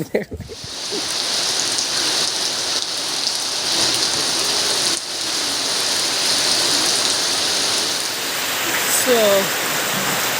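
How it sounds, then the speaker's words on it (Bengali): Heavy rain pours steadily and loudly throughout, a dense constant hiss with a brief voice near the end. "বাইরে প্রচুর বৃষ্টি হচ্ছে"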